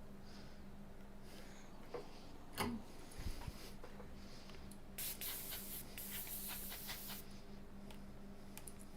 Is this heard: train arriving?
no